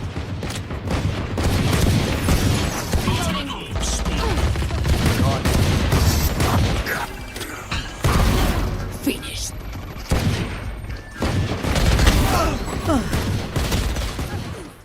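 Gunfire in the tactical shooter VALORANT, with repeated bursts and single shots cracking in clusters and brief pauses between, mixed with game effects while a voice talks over the action.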